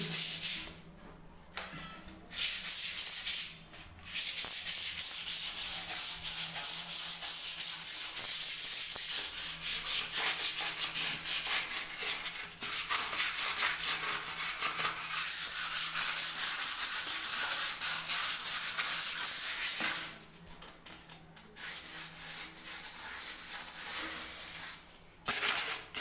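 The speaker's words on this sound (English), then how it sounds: "I'm sanding the backside of the wheel." Steady, harsh abrasive rubbing of 80-grit sandpaper on the back of a Skoda Rapid alloy wheel, continuous and close, with a few brief pauses between strokes.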